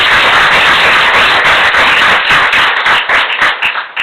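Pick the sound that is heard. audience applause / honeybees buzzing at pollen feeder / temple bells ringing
audience applause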